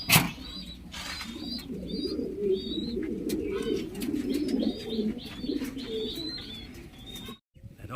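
Pigeons in a breeding loft coo in a low, continuous rumbling chorus, with repeated short chirps above it and a loud thump at the start, close and steady until an abrupt cutoff near the end.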